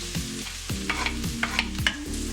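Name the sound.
garlic frying in melted margarine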